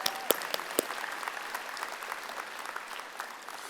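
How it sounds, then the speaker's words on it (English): An audience at a university convocation claps steadily, a broad wash of many hands at moderate distance, with a few sharper nearby claps standing out early before the applause slowly thins. "We're clapping for the Calgary Black Chambers."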